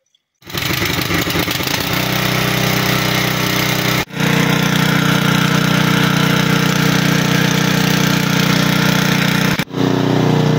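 A new petrol engine is started with a pull cord, then roars into a loud, steady drone close by. The sound dips sharply twice as the revs falter briefly before it runs on.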